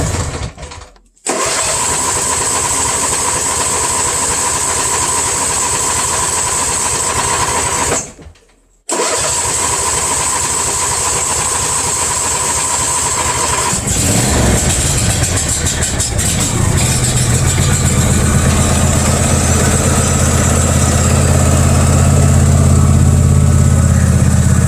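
Riding lawnmower engine cranked and started with a key, two brief starter pauses then catching and settling into a steady loud idle rumble, heard up close with no talking.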